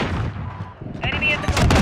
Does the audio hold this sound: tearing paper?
no